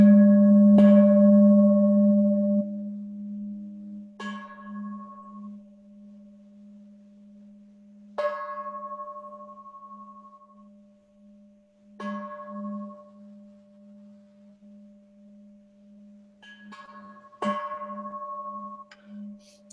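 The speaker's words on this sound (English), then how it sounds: "And hit the bell. We all miss the bell sound." Bell at an altar during a Sunday dharma gathering, struck about five times at roughly four-second intervals, each soft strike leaving a long, faint, steady ringing hum.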